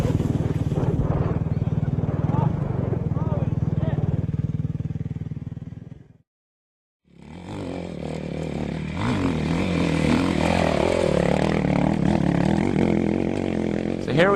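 Offroad motorcycle engine buzzing and revving on a loose, steep hill, loud and close; it cuts out briefly to silence, then returns with a voice talking over the engine noise.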